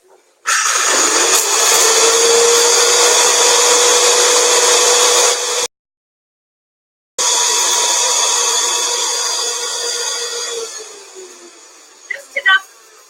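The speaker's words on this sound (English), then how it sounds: "I've got 4 whole cloves here. I think my recipe called for a 1/4 teaspoon. If I recall correctly. So I'm just going to grind these up as much as I can." Whole cloves ground in an electric spice grinder make a loud, steady high-pitched whir that runs about five seconds, stops briefly, then starts again and winds down with a few rattling knocks at the end.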